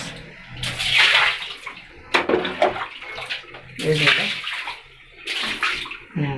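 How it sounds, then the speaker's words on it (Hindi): Water is thrown out in repeated splashing bursts during cleaning, with loud sloshing gushes separated by pauses. A person speaks briefly between them. "पानी फेंक देते हैं, सफाई कर देते हैं बस"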